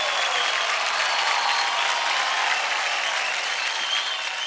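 Studio audience applauding dancers on a televised Indian dance competition show, a steady, dense wash of clapping that holds at even loudness throughout, with no talking over it.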